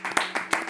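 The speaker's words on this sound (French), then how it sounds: "On peut l'applaudir" Audience applause on a French comedy talk show, heard as a short burst of several quick, fairly near claps in an uneven rhythm, with no voices over them.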